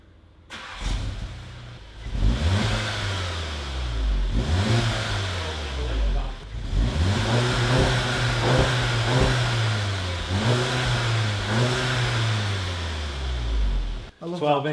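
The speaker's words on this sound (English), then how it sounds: "This is the start-up sound before." A Volkswagen Golf GTI with its resonator still fitted starts up close by and settles, then is blipped through several rising and falling revs. Voices murmur faintly beneath the engine.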